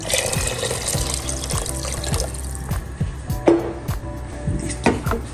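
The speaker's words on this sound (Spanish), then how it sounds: "Y le ponemos el agua." Water pours and splashes into a pot of lentils for several seconds, with light clinks and knocks of the container mixed in.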